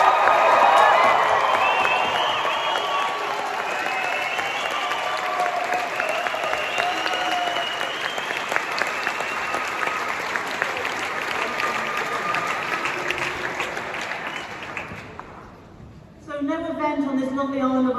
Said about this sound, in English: could I have the loudest cheer you've got for everybody in this room?